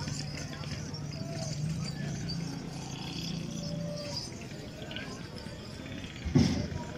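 A local desi mare moves at a horse market with a soft clip-clop of hooves, close by, under steady crowd chatter and nearby talk.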